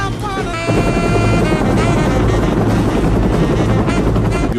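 A helicopter flies overhead on a military-style mission, its loud, steady rotor thump and engine whine filling the air continuously and close by.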